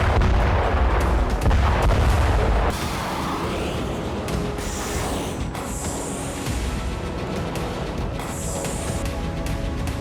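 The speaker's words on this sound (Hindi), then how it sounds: "इस बैलिस्टिक विस्फोट को देख लीजिए।" A loud, rumbling ballistic missile blast roars at first, then settles into a sustained turbulent roar with distant crackling bursts.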